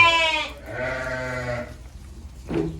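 Sheep and young lambs bleat nearby in three separate calls, two long wavering bleats followed by a shorter one, with no talking.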